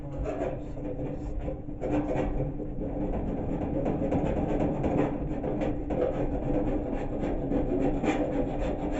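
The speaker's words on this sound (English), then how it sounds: "what I need now is a scraper" A scraper grinds steadily across a trailer to lift off a number plate sticker, giving a continuous close rasping scrape with short pauses near the start and no talking.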